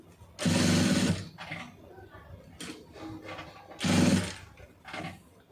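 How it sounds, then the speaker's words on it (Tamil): A sewing machine stitches cloth in a round using large stitches, running in two loud steady bursts, with quieter speech and handling sounds between them. "இப்போ நான் உங்களுக்கு அதை வந்து ரவுண்டு ஃபுல்லாக தைச்சி காமிக்கிறேன்"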